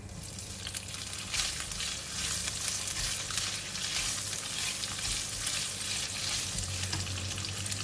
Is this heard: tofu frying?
yes